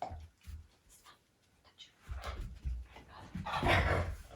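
During retrieve training a dog vocalises with short whines and yips, a few scattered sounds that build into louder barks near the end, close by.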